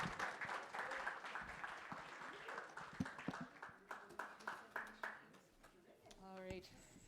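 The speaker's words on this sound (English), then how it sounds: "Please give a round of applause to our wonderful panelists." Audience applause for panelists at a health equity and aging session, a broad wash of clapping that thins into slower scattered claps before fading, with a voice speaking over it.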